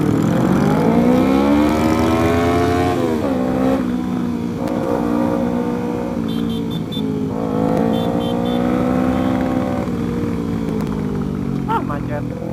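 Harley-Davidson motorcycle engines, including a new 48, rumble low and steady in a traffic jam during a convoy with a Ninja 250, revving up and settling back at close range while riders chat over the idling throb.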